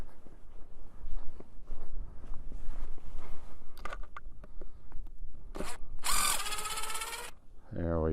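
A power drill with a T25 bit drives screws outdoors, with fumbling and handling noise first, then a couple of short whirring bursts and one longer whining run, each close and loud.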